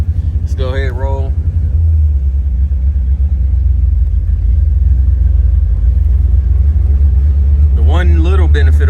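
A 1974 Chevrolet Corvette with a 350 V8 pulls away, its deep, steady engine rumble swelling slightly and holding close and loud throughout, with someone talking briefly at the start and again at the end.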